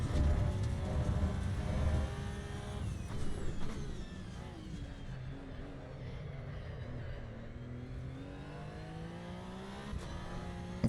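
A race car engine in the driving game Assetto Corsa EVO, played on a controller during a lap, holds a steady close whine that climbs and dips through repeated gear changes and runs without a break.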